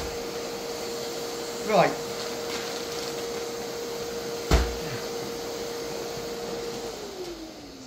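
Vacuum cleaner running steadily with a constant whine as it sucks up thick oak sawdust, with brief rattling surges and a sharp knock partway through, then the motor pitch drops; a voice speaks briefly.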